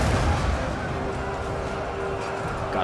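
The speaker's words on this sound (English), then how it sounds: "some big mortar hits over here." Mortar impacts in a Total War: Attila medieval battle, a dense, low, rumbling barrage of booms with battlefield noise, close and continuous, with a voice faintly present underneath.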